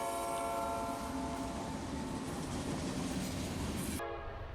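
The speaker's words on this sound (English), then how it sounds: "NS-228 clearing through Midland, southbound." A Norfolk Southern freight train rolls southbound through Midland, its loud, steady rumble and rail noise filling the scene before cutting off abruptly near the end.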